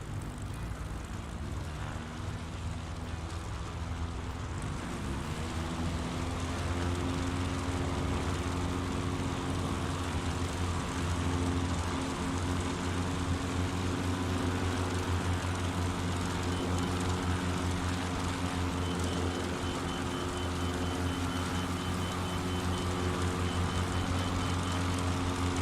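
Husky A-1C light aircraft in Microsoft Flight Simulator 2020 taking off, its steady propeller engine droning loudly and evenly throughout, rising slightly in pitch and intensity partway through.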